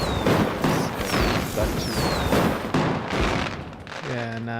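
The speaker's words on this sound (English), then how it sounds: "it was a wonderful firework Thomas made" Fireworks in the survival game Enshrouded, a run of repeated booming bursts with whistling streaks, fairly loud and steady, and a voice talking near the end.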